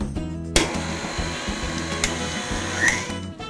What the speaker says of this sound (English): turn our mixer back on and get that nice and mixed up